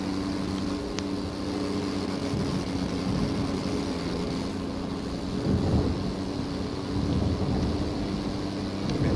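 Rumbling thunder from lightning strikes and artillery bombardment on the front lines in a WWI flight game, a steady low roar with swelling booms over a constant engine-like drone, no voices.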